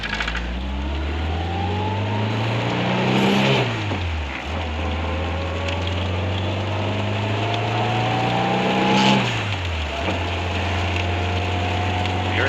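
A StarQuest car's engine revs while driving, climbing in pitch, dropping sharply at each shift like a sequential gearbox, then climbing again, loud and steady from inside the car.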